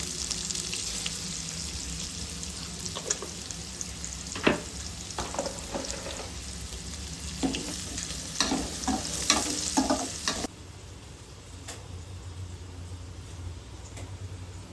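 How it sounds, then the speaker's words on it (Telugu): Curry leaves and turmeric sizzling in hot oil in a pan, a steady close fry with spoon scrapes and stirring clatters, then the sizzle drops to a quieter hiss. "కరివేపాక ఫ్రై అయిపోయింది"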